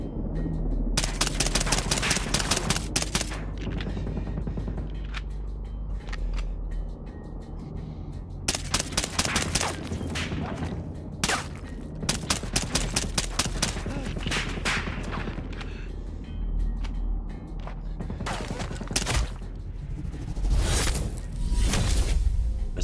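Sustained video-game gunfire from a pistol, heard as dense, loud rapid bursts of shots in clustered volleys with brief gaps between them and whooshing effects in places.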